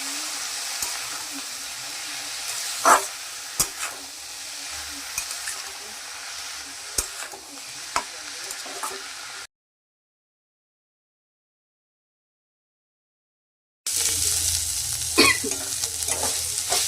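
Radish greens stir-fried with sugar, turmeric and salt make a steady, close sizzle with repeated spatula knocks and scrapes, broken by a few seconds of complete silence before the frying resumes.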